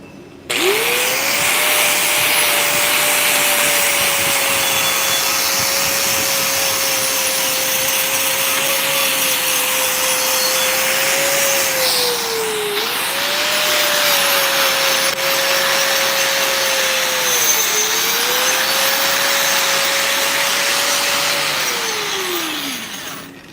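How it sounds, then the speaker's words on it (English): A power tool with a wire wheel runs steadily and loud for most of the stretch, scrubbing slag off a hot-pass weld bead. Its whine dips briefly twice as the tool is eased off, then it winds down at the end. "We're going to go ahead and wire wheel this slag off."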